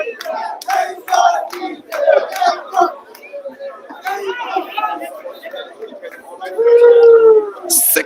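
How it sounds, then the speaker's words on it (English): A crowd at a pool championship grand final chants rhythmically for player GINTE, loud, bursty group voices repeating in waves. "The crowd are chanting,"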